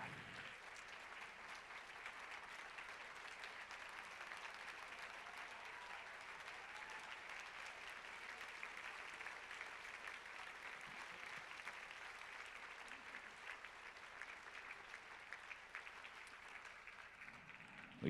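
Sustained applause from a museum gala audience greeting a Legacy Award recipient, a broad, even wash of many hands clapping heard from a distance, steady and unbroken for the full length without voices rising above it.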